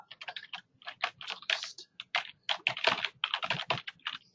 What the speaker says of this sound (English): So I'm typing into the chat,